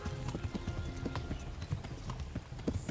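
Horse hooves clip-clop in a quick, uneven rhythm in the medieval game Kingdom Come: Deliverance, close and steady throughout with faint background noise.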